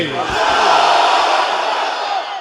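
Crowd voices rising together in a loud, sustained chant answering a takbir call at a religious gathering, a dense roar of many people shouting at once for over two seconds.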